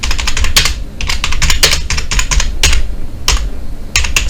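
Rapid typing on a computer keyboard, close and clear, with dense bursts of key clicks separated by short pauses and no voices.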